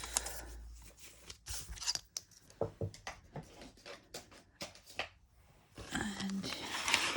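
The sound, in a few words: scissors cutting paper for a junk journal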